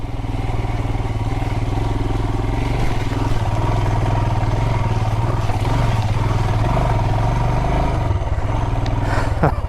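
A dirt motorcycle bogs down in deep mud, its engine droning loud and close in a strained, steady labouring note that holds for several seconds.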